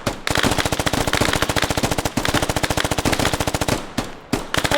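Rapid, continuous machine gun fire in the video game Squad, loud and close, with bursts of rattling shots and brief pauses between volleys.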